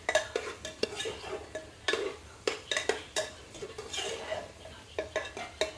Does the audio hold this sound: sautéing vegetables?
yes